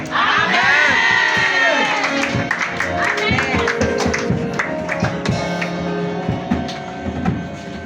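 A church congregation cheers and acclaims Jesus with a loud, dense swell of shouting and whooping voices, high at first and then settling into mixed cries, claps and chatter.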